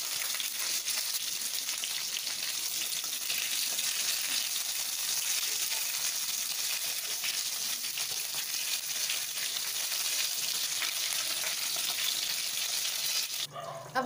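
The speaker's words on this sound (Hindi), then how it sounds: "अब हमें अपनी शिमला मिर्चों को हम 5 मिनट के लिए ढककर पकाएंगे। मीडियम फ्लेम पर पकाना है हमें 5 मिनट ढककर।" Stuffed bell peppers cook covered in a pan over a medium flame, giving a steady, even sizzle that holds at a constant level for the whole stretch and is heard alone with no voices.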